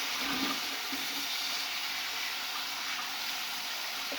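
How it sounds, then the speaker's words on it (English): Cold tap water runs steadily into a kitchen sink or bowl, a constant broadband rushing hiss at moderate distance with no break, while pastry for an apple crumb with buttery crust is being made. "I'm going to let the water start running."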